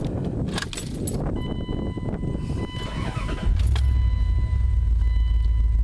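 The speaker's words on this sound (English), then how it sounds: "let's go ahead and fire it up and see how she sounds from the inside" From inside the cab of a 2001 Dodge Ram 1500 Sport, keys jangle and the starter cranks before the engine catches and settles into a loud, steady low idle rumble.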